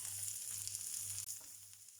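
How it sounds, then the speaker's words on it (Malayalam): Sliced onions and green chillies frying in a pan for a Kerala bitter gourd fry, a steady bright hiss of sizzling oil with a faint low hum beneath, brief and close. "ഇനി അതിലേക്ക് നേരത്തെ സ്ലൈസ് ചെയ്ത് വെച്ചിരുന്ന സവാളയും പച്ചമുളകും കറിയിലേക്ക് ഇട്ട് കൊടുക്കുന്നു."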